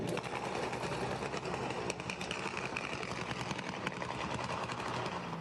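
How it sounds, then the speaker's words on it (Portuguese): Motorcycles with modified, open exhausts roaring through the streets of Ribeirão Preto at night, a dense, continuous buzzing engine drone holding steady and loud throughout with no voices. "O nome correto desse barulho dos escapamentos modificados das motos é descarga livre"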